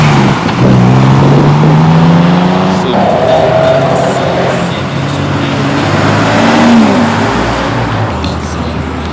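A new Porsche revs at a car show, its engine note climbing and falling in several swelling pulls, loud and close, with voices in the background.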